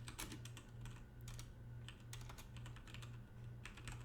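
Steady typing on a computer keyboard, quick light key clicks in irregular bursts that continue close and clear over a faint low hum, with no talking.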